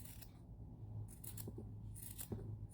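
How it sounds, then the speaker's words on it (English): Scissors trimming the yarn ends of a boho tassel: repeated crisp snips in an irregular rhythm, close and fairly quiet over faint background hum. "Lastly, you'll want to give it a trim."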